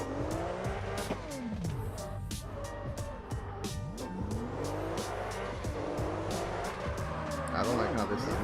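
Tires squealing and sliding as a car drifts in CarX Drift Racing Online, repeated screeches over a revving engine that rises and falls, loud and close with a voice talking throughout.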